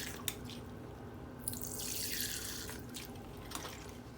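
Thin liquid, lemon juice, streams and drips into a bowl over apples, a close, steady trickle with a few splashy drops.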